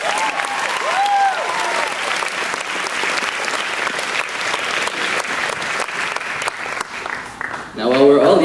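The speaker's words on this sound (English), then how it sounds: "Give yourself a round of applause." Graduation ceremony audience at Port Credit Secondary School breaks into sustained, dense applause filling the hall, steady and loud for most of the stretch, with a brief voice and some cheering near the end.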